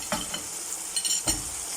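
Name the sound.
tomatoes and green chillies added to chicken liver frying in oil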